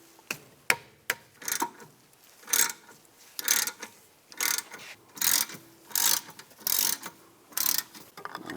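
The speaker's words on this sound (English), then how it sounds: "Take a 7mm Allen socket. Loosen up the bolts for the caliper." A hand ratchet with a 7mm Allen socket loosens the brake caliper bolts on a 2004-2010 BMW X3: close, rhythmic clicking strokes repeat about twice a second, with no voices.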